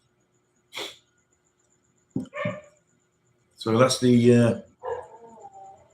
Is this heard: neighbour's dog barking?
yes